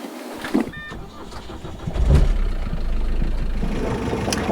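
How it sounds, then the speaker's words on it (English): A sailboat's engine cranks and fires up at anchor, settling into a steady low idle rumble that carries on to the end, with a brief mechanical whir and clunk just before it catches. "all we gotta do is turn on the engine, pick up anchor"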